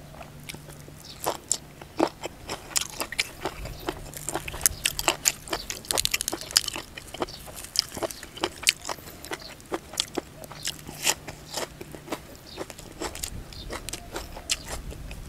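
Raw squid salad with sour dressing is bitten and chewed crunchily, a long run of sharp, close crunches and smacking chews in irregular rhythm with no talk.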